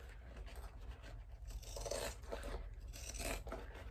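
Scissors trimming fabric while a crossbody bag is sewn, a quiet series of soft snipping and rasping cuts repeating at close range.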